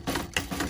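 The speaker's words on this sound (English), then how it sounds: "now we're going back to serging" Serger sewing machine running briefly over fabric, a rapid mechanical chatter of stitching pulses in a short burst.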